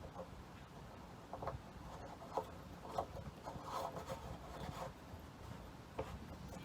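A PVC 90-degree female-to-male fitting is screwed by hand into a tank bulkhead on a mixing station, giving faint, close rubbing and scraping with a few brief plastic creaks and clicks.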